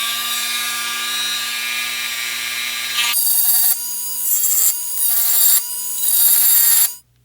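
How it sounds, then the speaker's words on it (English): A Dremel with a 60 grit wheel stipples a Glock 19 Gen 4 frame, making a continuous high, thin whine alone. Its pitch jumps up and drops back in several bursts during the second half before it cuts off. "we're going to follow the same procedure in terms of using the 60 grit wheel on the Dremel"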